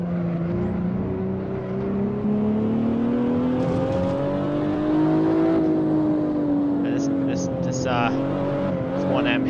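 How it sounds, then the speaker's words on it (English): A BMW 1M engine in the racing game Assetto Corsa drones loudly and steadily, its pitch rising and falling slightly as the car runs, with brief tire noise near the end. "I think Assetto has the car sounds by far better than any of the other games so far."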